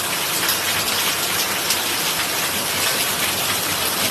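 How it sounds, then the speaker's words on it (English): Heavy rain pours down steadily outdoors, a dense, loud, unbroken hiss of water striking surfaces with no pauses or talk. "It's pouring."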